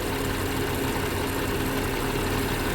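A 2016 BMW X5 xDrive35i engine idles steadily with a newly replaced serpentine belt tensioner, a constant, even mechanical hum and whir heard up close with no voices.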